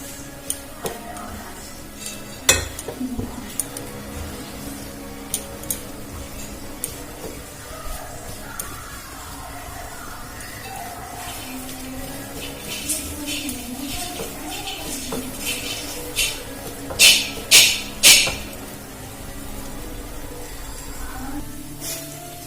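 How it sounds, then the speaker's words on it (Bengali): Spoon clatters and scrapes against a pan as food with red chili powder and garam masala is stirred and fried for a Bengali-style snack, with a steady run of clinks and a few louder knocks near the end, no talk. "এবারে এটা ভালো করে নাড়াচাড়া করে ভেজে নেব।"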